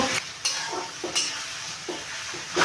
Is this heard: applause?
no